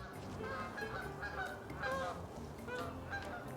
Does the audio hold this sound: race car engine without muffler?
no